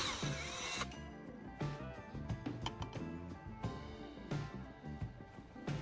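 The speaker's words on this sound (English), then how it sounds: "I'm now drilling several small holes along the spoon's handle." A drill bores several small holes along a metal spoon handle, a whirring bit broken by repeated bursts and clattering mechanical ticks, close and fairly loud with no speech.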